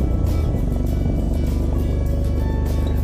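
Motorcycle ridden along a narrow mountain road near Diskit in Ladakh, its engine a steady, loud drone with constant wind rush throughout and no talking.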